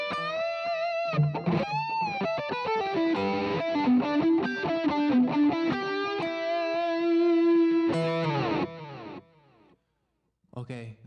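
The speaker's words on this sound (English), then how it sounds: "It's a stereo delay. It's very nice stereo delay." Electric guitar lead through a Line 6 POD X3 Live stereo delay, distorted sustained notes with bends and slides and echoes trailing behind them, then a brief pause before a short final burst.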